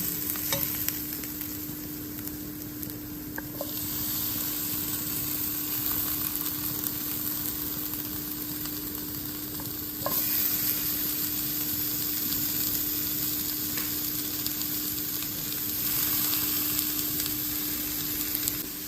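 Tomato goes into dry spices frying in a pan over lowered gas for a spicy mung vadi curry, bringing a steady close sizzle with stirring scrapes and a brief shift in the hiss as it lands.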